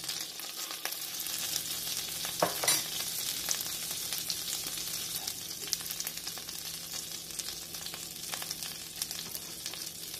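Cumin seeds sizzle in hot sunflower oil in a pan, a steady, close, bright crackling and hissing that runs throughout, with a few louder pops and stirring scrapes.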